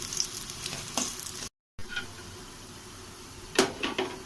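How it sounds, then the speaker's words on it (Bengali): Pointed gourd vine fritters fry in hot oil with a steady close sizzle and occasional spatula scrapes, a brief silent gap partway through, and a louder scrape near the end. "লাল লাল করে ভেজে নিতে হবে"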